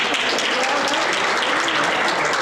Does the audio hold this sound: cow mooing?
no